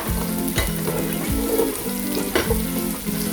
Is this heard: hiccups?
no